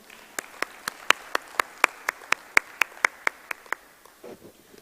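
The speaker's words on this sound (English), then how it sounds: "I request you all for a warm round of applause" A conference audience at the Geospatial World Forum 2018 claps for a panel, heard as a thin, evenly paced run of about fifteen crisp claps that stop abruptly and give way to faint murmuring.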